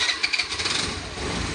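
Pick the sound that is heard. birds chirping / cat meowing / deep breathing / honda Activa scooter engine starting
honda Activa scooter engine starting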